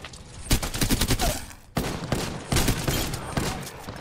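Gunfire crackles in the video game Apex Legends: rapid automatic bursts repeat in close succession, loud and near, with short gaps between volleys.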